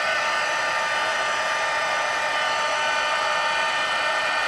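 A heat tool blows steadily on embossing powder, giving a constant loud whooshing fan-and-air roar that holds unchanged throughout, with no talking.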